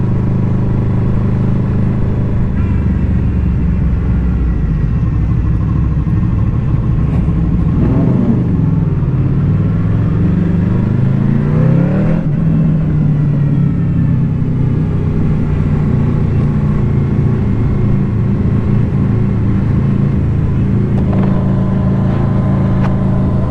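A motorcycle engine drones steadily and loudly in low gear, first and second, on a ride out near Lake Vyrnwy, with wind rush and brief rises in revs as the bike pulls along.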